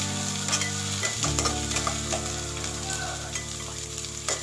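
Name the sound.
onions and curry leaves frying in a pan for methi chicken curry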